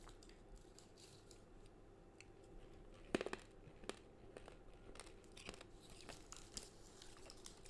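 Hard, crunchy sugar gummy candy chewed close up, one loud crunching bite followed by a steady run of quieter crackly chews, with no talking.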